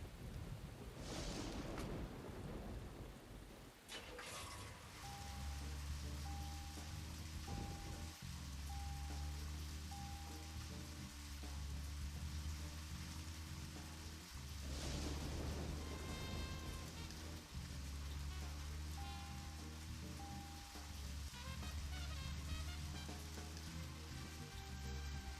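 Rain falling in the video game Deadly Premonition, a constant hissing patter under low tonal hums and a couple of louder rumbling swells, fairly quiet overall.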